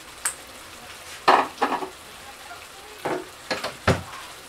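Coriander and garlic mixture frying in a pan for a Kabyle stuffed galette with chakchouka, heard as a few short sizzling bursts and stirring scrapes spaced out over a quiet background.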